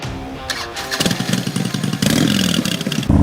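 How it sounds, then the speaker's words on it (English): A Harley-Davidson Electra Glide touring motorcycle engine sounds close and loud, with a low throbbing idle that rises into a heavier, revving roar partway through. "Number 3, Harley-Davidson Electra Glide."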